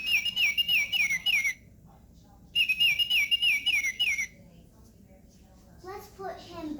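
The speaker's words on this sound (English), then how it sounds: "He's an oriole. The red, pretty oriole." A toy red oriole bird gives two bursts of bright, warbling electronic chirps separated by a short pause, close and fairly loud, and a voice follows at the end.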